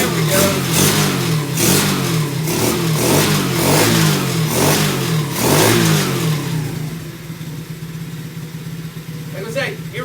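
A Mighty Green K4 engine, started on choke, roars with steady revving and rhythmic pulsing for several seconds, then drops to a quieter idle near the end.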